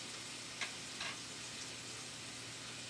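Cheese sizzling in a hot pan, a steady soft frying hiss with a couple of faint stirring clicks, fairly quiet and continuous.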